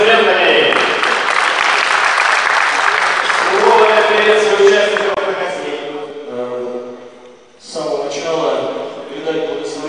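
Audience applause at a mini-football tournament swells under someone speaking over a microphone, fading briefly before clapping and voices pick up again.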